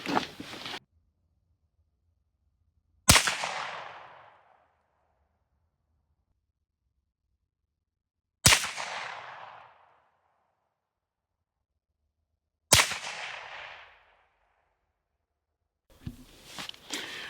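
Rifles fitted with Dead Air Nomad L and Nomad LTI XC suppressors firing at a target range, three loud, sharp shots spaced several seconds apart, each trailing off in a decaying echo, with quiet between them.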